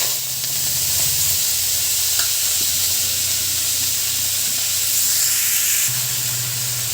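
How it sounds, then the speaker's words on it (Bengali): Chopped leafy greens and small-cut onion fry in a little oil in a kadai, giving a steady close sizzle and hiss throughout, with faint low hum underneath. "একটু তেল দিয়ে দিলাম, আর এতে কড়াই শাক কেটেছি, পেঁয়াজ কালি কেটেছি ছোট ছোট করে"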